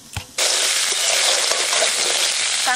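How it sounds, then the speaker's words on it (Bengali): Crabs frying in mustard oil in a village kitchen wok, opening with a short clatter before a loud, steady sizzle bursts in and holds close and unbroken to the end. "কাঁকড়া ভাজা হয়ে গেছে"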